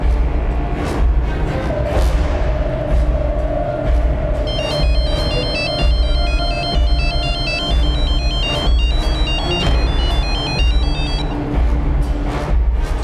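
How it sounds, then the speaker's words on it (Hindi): Mobile phone ringtone ringing on and on without being answered, a repeating electronic melody over a steady low background drone, fairly loud and continuous with no speech. "सर वो लड़का फोन नहीं उठा रहा है।"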